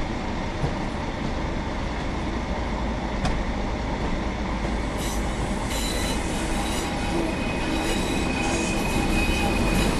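A class 142 train in Train Sim World 4 rumbles steadily while braking, a continuous loud rolling roar with faint wheel squeal and clicks throughout, no voices.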